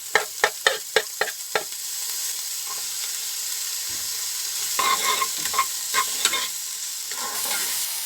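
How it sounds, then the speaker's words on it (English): Onions drop into a pan of hot oil and garlic, first a quick series of sharp taps, then a steady close sizzle broken by scraping stirs of a utensil, with no voices. "In my other pan, I put a little bit of garlic and some oil. In goes the onions."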